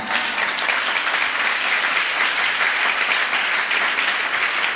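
A French-speaking church congregation breaks into loud, continuous applause. The clapping stays dense and even from start to end, with no voice heard above it.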